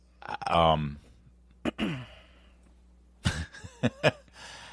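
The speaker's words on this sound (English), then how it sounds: "I was just clearing my throat." A short, near throat clearing followed by a few brief vocal sounds and coughs, with a faint steady hum underneath.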